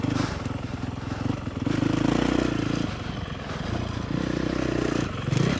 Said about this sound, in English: A 450 motocross bike is an incredibly fast thing